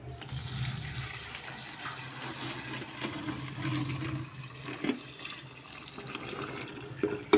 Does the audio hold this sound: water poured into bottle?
yes